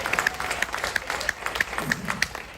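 Brief audience applause at an outdoor live event in Texas, scattered hand claps forming a thin, uneven round with distinct individual claps and no talk over it.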